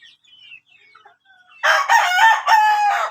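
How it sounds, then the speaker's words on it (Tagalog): A rooster crows loudly up close in one long, drawn-out call after a few faint bird chirps. "Tayo manok dito."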